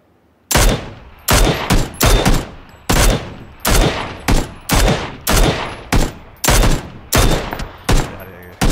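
Gunfire in PlayerUnknown's Battlegrounds: a long series of loud, close bursts, each a few rapid shots, spaced about every half second to second with brief gaps between.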